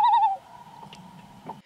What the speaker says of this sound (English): Great Northern Loon.